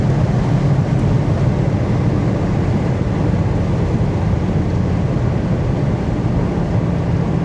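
A 2003 Dodge Viper cruising with the top down, its engine a steady, loud low rumble mixed with constant wind and road roar throughout, with no pauses and no voices.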